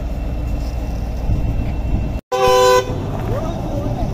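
A tractor horn gives one loud, near blast after being hooked up. A steady engine rumble runs underneath, and there is a little talk nearby.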